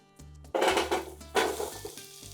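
Vegetables hit a hot pan with a loud burst of sizzling, then a second surge as more go in, with a clink of cookware and steady frying hiss.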